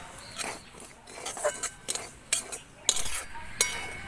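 Semolina being stirred in a pan over a strong fire, heard as irregular scraping and clinking of a utensil against metal, moderately close with light background hiss and no speech.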